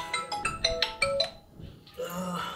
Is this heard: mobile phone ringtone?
yes